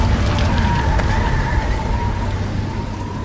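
A dramatised storm of thunder, hail and rain makes a dense, steady wash of pouring rain with a low rumbling bed and a brief sharp crack near the start, fading slightly toward the end.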